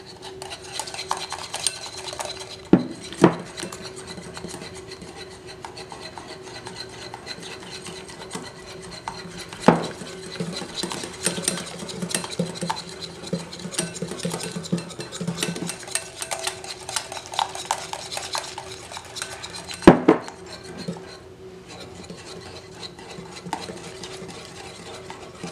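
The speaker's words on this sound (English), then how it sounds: "And you just keep mixing." Homemade mayonnaise being stirred in a bowl gives a continuous close scraping and swishing of utensil against dish, with a few sharper clinks along the way and no voices.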